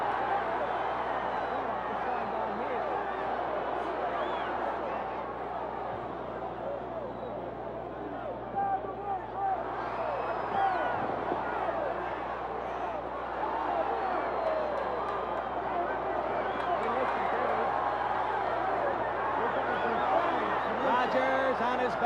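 A wrestling arena crowd at an NWA heavyweight title match steadily cheers and roars for the whole stretch, a broad continuous wash of noise under a commentator's voice.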